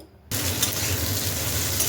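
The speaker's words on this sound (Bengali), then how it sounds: "এরপর পনিরগুলোকে একটু ভেজে নেব" Paneer pieces drop into hot mustard oil in a wok, and a sudden loud sizzle starts and then holds steady and close.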